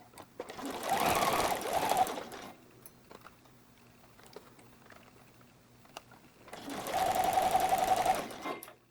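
A sewing machine stitches a bralette seam in two bursts of rapid, even stitching, separated by a quiet pause with faint handling clicks.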